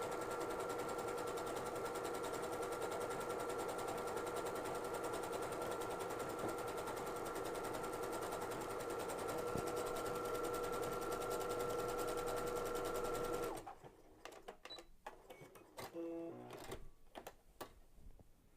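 A sewing machine runs steadily, stitching overcast edges on pre-quilted fabric with a fast, even mechanical whir that goes on for about thirteen seconds. Then it stops, leaving faint handling clicks and rustles.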